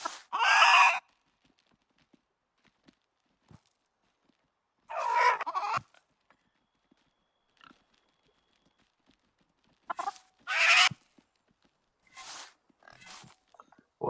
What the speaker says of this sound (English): Okay, let's get the chickens in.